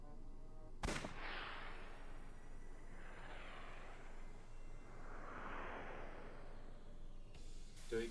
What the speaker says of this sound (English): Can we use the bullets we found earlier? This could work. I'll try shooting it.